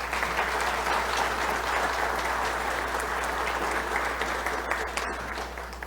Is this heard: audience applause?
yes